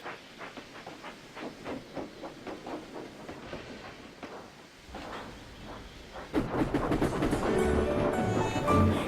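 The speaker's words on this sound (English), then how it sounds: "Henry steamed measly into Knapford Yards to pick up a goods train bound for Brendam Docks." A steam engine in the Trainz railway simulator game chuffs into a goods yard, with rhythmic puffs and hiss that swell into a louder, busier burst of steam and clanking near the end.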